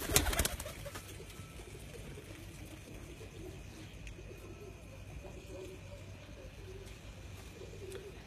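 A tournament racing pigeon flies near a house while low, soft cooing comes and goes against faint background hum and distant noise.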